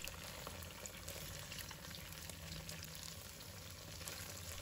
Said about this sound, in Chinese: 把豆腐底部煎至金黄焦香